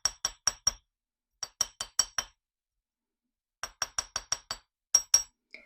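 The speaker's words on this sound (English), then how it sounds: "You don't need to go crazy hammering this wire. You just need to flatten it and strengthen it." A hammer gently tapping jewelry wire to flatten and strengthen it: close, crisp metallic clinks come in quick bursts of roughly three to seven taps, separated by silent pauses, with no talking.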